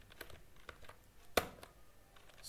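MySQL commands typed on a computer keyboard, sparse close key clicks with one sharp louder keystroke midway, quiet and without talk.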